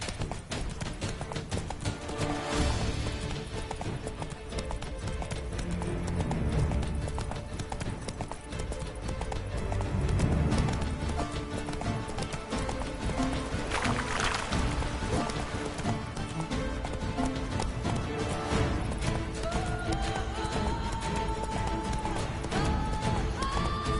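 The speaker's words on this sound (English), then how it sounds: "Whoa there, Roach" Horse hooves clip-clop at a gallop in The Witcher 3, a steady driving rhythm up close, with game music and rain-like ambience layered underneath.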